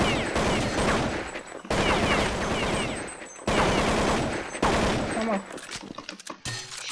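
Counter-Strike 1.6 jailbreak server gunfire: dense, loud bursts of automatic fire in three long volleys separated by brief gaps, then scattered shots trailing off, with faint in-game chatter mixed underneath.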